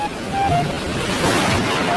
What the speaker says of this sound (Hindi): तभी शादी के बीच में ही बहुत जोर का तूफान और बारिश आ जाती है।